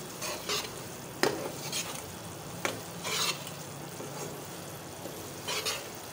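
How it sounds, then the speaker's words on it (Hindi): Semolina frying in ghee for halwa is stirred in a pan, giving a soft steady sizzle with periodic scraping strokes of the spoon, close and fairly quiet, with no talking. "7 से 8 मिनट ब्राउन होने देंगे। इसको मुसलसल हिलाते रहना है।"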